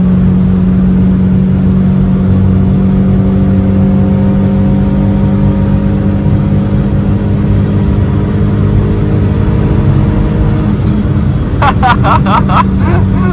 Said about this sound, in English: Listen to it try and sing. Flat out. In third.